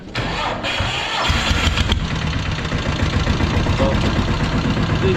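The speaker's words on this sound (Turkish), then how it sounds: "Şu anda marş basınca marş basınca ileri aldı gördüğünüz gibi" A Yağmur 510 tractor with a clutch fault that jams the gears and stalls the engine cranks over and catches, then settles into a loud, steady diesel rumble close by, with no talk.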